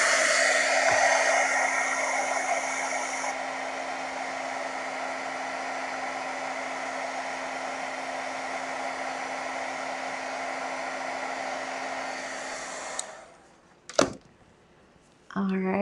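A hair dryer blows steadily on a watercolor painting for about thirteen seconds, a loud, even roar that cuts off abruptly, followed by a sharp click.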